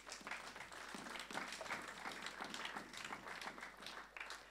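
A church congregation applauds steadily throughout, dense clapping from many hands at moderate distance, sustained without pause.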